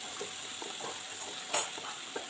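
Capsicum and other vegetables fry in a pan with a steady, soft sizzle, with faint stirring clinks and one brief brighter scrape partway through.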